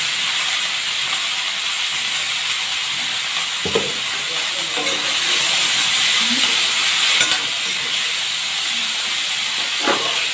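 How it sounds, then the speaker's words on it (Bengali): Steady, loud sizzling of salted onions frying in a hot pan, with a few clinks and stirring knocks breaking through the continuous hiss. "পেঁয়াজগুলো অল্প ভাজা হয়ে গেছে"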